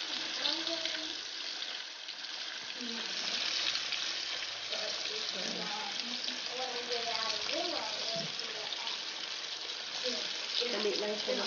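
Chicken pieces frying in hot oil for crispy butter chicken, a steady broadband sizzle running throughout with voices talking over it.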